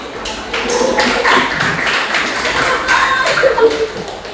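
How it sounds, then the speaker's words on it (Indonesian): A classroom of students claps for a presenting group during an art lesson, with scattered, uneven hand claps and light taps filling the room at a moderate level. "Beri tepuk tangan untuk kelompok irama."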